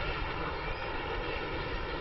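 Harrier jump jet hovering over Louisville, a loud, steady, dense engine roar with no break and no voices.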